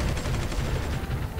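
A destroyer fires a missile in the strategy game Supreme Ruler 2020, giving a dense, rumbling burst of explosive launch noise that stays loud and heavy throughout with no voices.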